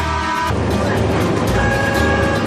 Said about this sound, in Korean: 덜컹거리는 소리와 함께 설레는 기차 여행이 시작됩니다.